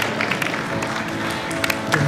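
Audience applause at a televised singing talent show, a dense patter of many hands clapping at moderate volume, with a voice faintly audible underneath.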